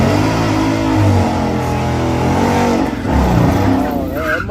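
A drag race car launches hard at the track on a cold night, a loud rising engine roar with tire squeal, nearby and overlapping with people talking.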